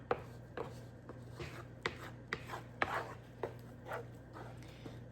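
A utensil scrapes and stirs thick homemade tomato paste, made from Roma tomatoes, off the edges of a cooking pan. About a dozen short, close scraping strokes come in an uneven rhythm, quiet and with no talking.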